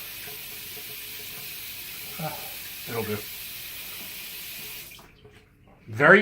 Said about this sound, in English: it's coming out of the faucet so fast